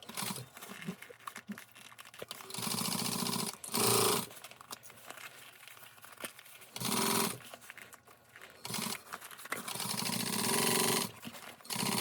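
A sewing machine runs in several bursts of steady whirring while stitching a quarter-inch seam around fabric edges, slowing near corners, with quiet pauses between runs.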